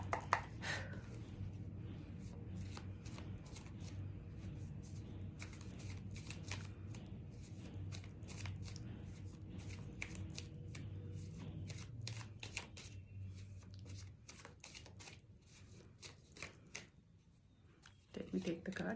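Tarot cards being shuffled by hand, a long run of crisp riffling and flapping bursts repeating nearly continuously over a low background hum, with a voice speaking briefly near the end.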